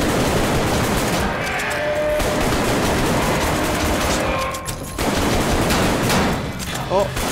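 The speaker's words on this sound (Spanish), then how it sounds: "¡Oh, explota, explota!" A loud, sustained roaring blast from an explosion in the video game Arktika.1 fills the whole stretch, dense and continuous with only brief dips in intensity.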